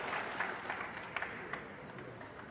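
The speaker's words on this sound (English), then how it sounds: "There was smattering of applause before the balls had stopped rolling." Scattered applause from a snooker audience at the Shanghai Masters semi-final, a light, continuous patter of clapping with a few sharper claps standing out, moderately distant and fairly soft, with no talk over it.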